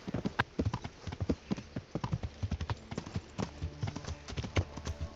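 Horse hooves clip-clopping in the medieval video game Kingdom Come Deliverance, a steady run of dense, even hoofbeats at moderate level with no speech over them.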